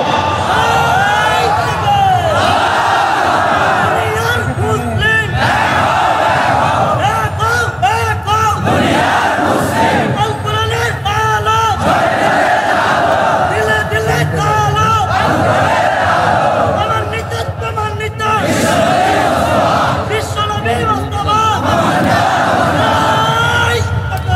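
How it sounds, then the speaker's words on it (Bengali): A large crowd chants the takbir in loud, rhythmic shouted waves at a gathering. The massed voices rise and fall in repeated calls, filling the space continuously. "জোরে তাকবীর দাও"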